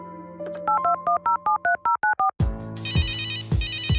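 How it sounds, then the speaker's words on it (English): A telephone call in the Runaway: A Road Adventure game: a run of short electronic dialing beeps, then a louder repeating ring tone sounding in two bursts. No voices. "I'll call Willie and try to get him to enter the analysis laboratory."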